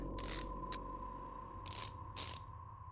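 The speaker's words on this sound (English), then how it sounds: "Oh, I can use a wrench in here." Mechanical ratcheting clicks from a wrench loosening a panel in the video game Fran Bow, several short bursts of cranking spaced across the moment, fairly close and clear against a low steady hum.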